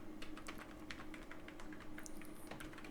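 Computer keyboard keys are tapped in a fast, steady run of close, light clicks that continue without a break and with no voices.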